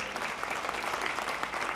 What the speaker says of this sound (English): So a round of applause to yourselves,